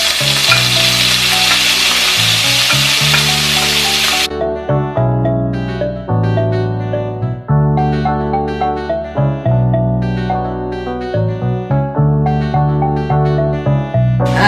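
Onion hits a hot pan for chicken curry with a loud, dense sizzle for about four seconds, then the frying gives way to rhythmic music that fills the rest.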